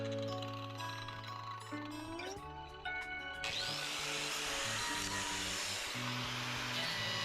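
An angle grinder fitted with a sanding disc working cypress wood while hand carving a sink, a steady high whine with loud broadband grinding noise that swells sharply as the disc bites partway through.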